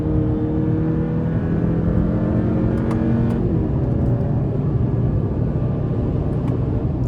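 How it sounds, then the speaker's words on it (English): A 2025 Hyundai Santa Cruz Limited pickup with the 2.5-liter turbo engine, driven in sport mode with paddle shifters, revs steadily and loudly through downshifts, with a continuous drone and shifting engine tones. "Oh, and the downshifts are nice."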